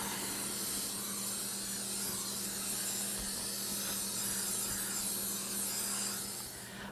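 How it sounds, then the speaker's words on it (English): A steady hissing spray of Vegeline commercial cooking spray greasing a pan continues for several seconds, close and fairly loud, like an aerosol can spraying without a break. "we're going to grease the pan, and I'm going to use Vegeline"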